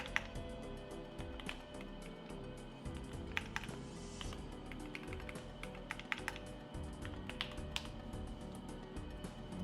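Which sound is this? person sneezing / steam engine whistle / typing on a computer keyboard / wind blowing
typing on a computer keyboard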